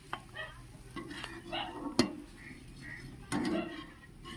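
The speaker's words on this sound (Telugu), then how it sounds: "పూర్తిగా ఇలా బ్రౌన్ కలర్లో రావాలండి, బాగా వేయించుకుందాం" Onions are stirred and fried in hot oil until brown, with soft sizzling under scraping spoon strokes and a few sharp clinks against the pan, close and quiet.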